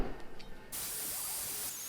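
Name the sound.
spray paint can spraying a car engine bracket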